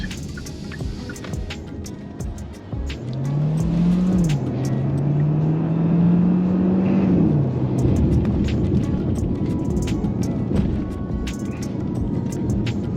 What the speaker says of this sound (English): that was acceleration from a standstill. It was pretty brisk.